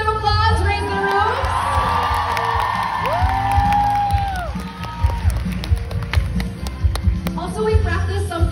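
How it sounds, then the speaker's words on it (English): An excited fan-event crowd at a Cebu meet-up claps and cheers, with high shrieks and whoops rising over the clapping and music or a voice sounding underneath, swelling and fading in waves. "please give a big round of applause right in the room"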